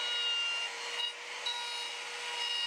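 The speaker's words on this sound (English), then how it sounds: "The router can slide along there while I rotate the piece with this clamp." A router with a flat bit shapes square wood stock into a cylinder, giving a steady, loud, high whine with a rough cutting hiss that barely changes across the stretch before stopping abruptly.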